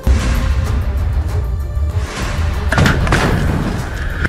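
A rocket blast against an armoured vehicle in Khan Younis, South Gaza, heard as heavy, booming low rumbles and thuds, with a sharper crackling burst partway through, loud and close without clear speech.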